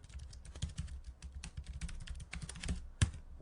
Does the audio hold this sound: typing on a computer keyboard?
yes